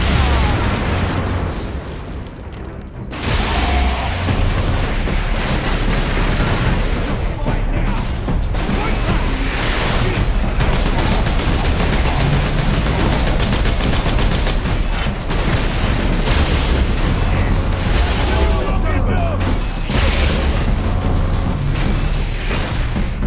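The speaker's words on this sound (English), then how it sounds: "Orc rocket launchers on the high ground." Ork rocket launchers in Warhammer 40k: Space Marine pound away in a chaotic, continuous barrage, explosions and gunfire layered densely and loudly for the whole stretch with barely any letup.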